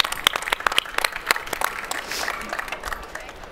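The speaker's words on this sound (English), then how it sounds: "So let's have a round of applause for Peter." Conference audience at a trade-fair forum applauding a speaker: a burst of scattered, sharp claps up close that thins and softens into lighter clapping, with faint murmur in the room.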